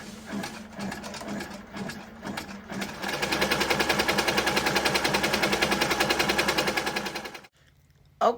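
Embroidery machine stitching a side bow design for an iron-on patch, first in short irregular bursts, then a fast steady rattling run of stitches for several seconds before it stops abruptly.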